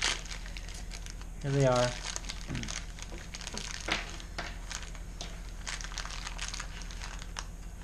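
Plastic packaging holding Cherry MX mechanical keyboard switches crinkles and crackles in a few short bursts, with one louder tearing rustle, close to the microphone while someone talks intermittently.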